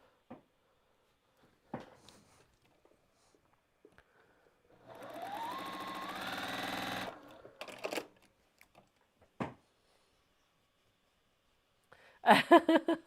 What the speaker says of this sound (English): I'm going to sew it on the diagonal because I think that will be fun